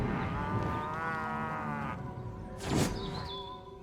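Cattle mooing in the video game Destroy All Humans! Remake, a long harmonic moo for about two seconds followed by a shorter lowing call, with game ambience and a rising electronic tone near the end.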